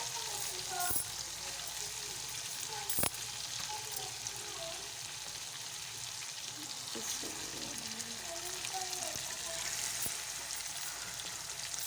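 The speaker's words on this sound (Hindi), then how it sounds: "अब इसमें हम मछली डाल देते हैं।" Fish goes into frying masala for a fish curry, a steady hiss and sizzle of oil with occasional stirring clicks and a couple of sharp knocks, heard close and without talk.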